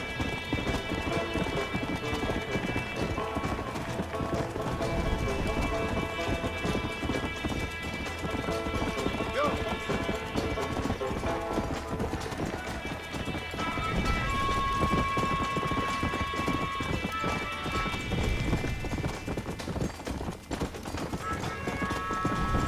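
Horse hooves galloping in Red Dead Redemption, a continuous rapid clip-clop over a busy game soundscape with music and weather-like rumble, steady and fairly close throughout.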